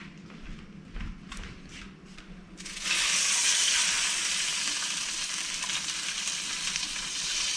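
Food hits a preheated cast iron skillet after a few dull knocks and footsteps, then a loud, steady sizzle and crackle fills the rest of the time without letting up.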